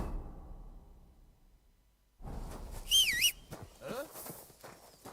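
In Kingdom Come: Deliverance II, a character whistles a brief wavering tune midway through, over quiet game ambience and soft footsteps.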